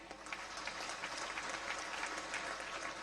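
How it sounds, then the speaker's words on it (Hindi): Crowd at a public event in Jaisalmer, Rajasthan, breaks into steady, dense applause for daughters and sisters, many hands clapping continuously at moderate distance without a break. "ये बेटियों के लिए, बहनों के लिए जोरदार ताली हो जाए"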